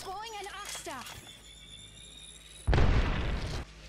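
A single heavy grenade blast booms loudly in Apex Legends, following a stretch of speech.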